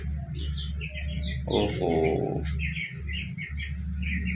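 Small chicks chirping, a series of high peeping calls repeated throughout over a steady low hum, with a man's brief exclamation in the middle.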